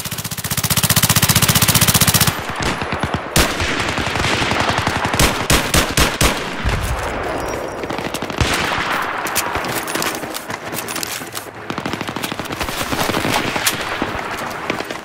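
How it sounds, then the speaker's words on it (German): Rapid automatic bursts from an MP7 submachine gun fitted with a suppressor, laser sight and extended magazine in Battlefield 3 multiplayer on Xbox 360, loud repeated volleys with pauses over a dense, noisy battlefield backdrop. "testen wir mal die hier. MP7 mit Rohpump, bisschen Laserpoint und Magazinerweiterung"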